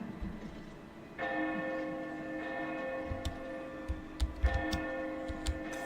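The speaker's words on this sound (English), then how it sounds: "First bell strikes for someone." Bell strikes in Oblivion with a sustained ringing tone that swells twice, while faint ticking and soft footstep-like knocks sit beneath it at a low, distant level.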